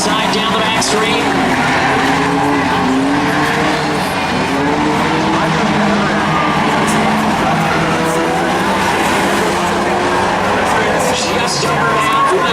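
Race cars on the back straight in a claimers race roar together in a constant loud drone with tire noise, as an announcer calls the race over it throughout.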